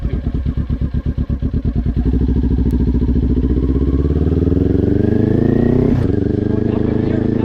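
A motorcycle engine idles with a lumpy chugging beat, then the revs climb and fall as the rider shifts up through first and second and back down, running close and loud.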